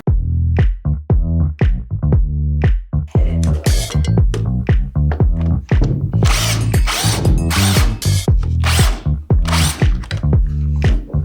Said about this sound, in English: We need to bore it out.